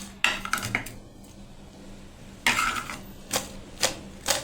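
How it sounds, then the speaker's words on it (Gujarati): Crunchy homemade potato chips are tossed with chaat masala and black salt, giving brief, crisp rattling bursts of chips against a bowl, spaced irregularly with near silence between. "હવે આપણે તે બધાને હલાવીને મિક્સ કરી લઈશું"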